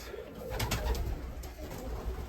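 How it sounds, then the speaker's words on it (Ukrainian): Pigeons coo inside a dovecote, several birds making soft, throaty rolling calls close by, with rustling and shuffling around them and no speech. "тут голубятка живе, там голубятка живе"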